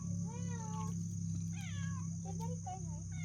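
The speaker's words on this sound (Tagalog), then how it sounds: "Ah, yung kaninang pusa." Several drawn-out cat meows, rising and falling, sound near a campsite in Baguio, with a steady background hum and insect chirping underneath throughout.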